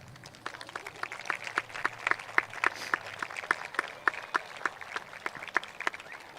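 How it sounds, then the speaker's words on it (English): Graduates at a Class of 2021 commencement ceremony give their parents and guardians a round of applause, with sparse individual claps rising and falling steadily across the space at moderate distance. "turn to your parents and guardians, and give them a loving thank you round of applause"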